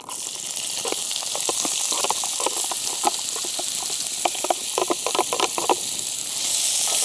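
Onions, peppers, chilies and garlic sizzle steadily over a campfire for a chicken curry, with scattered crackles and pops rising above a continuous hiss, close and fairly loud.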